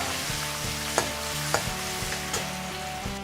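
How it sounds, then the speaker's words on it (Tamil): Cumin seeds fry in hot oil in a pan, a steady close sizzle with a few sharp pops and clicks scattered through it, with no talking. "ஜீரகத்தை நல்லா பொரிய விடுங்க."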